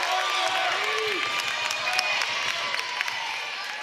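Crowd murmur and scattered cheering in a gym at a Division 5 girls' volleyball regional final, student sections behind both benches, a steady broad wash of noise throughout with a whistle-like tone and a few louder bursts.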